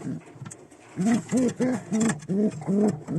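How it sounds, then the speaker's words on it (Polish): A male pigeon coos in a clear rhythmic series of about six close, loud calls, alone with no talk. "Przepiękny gołąb po prostu."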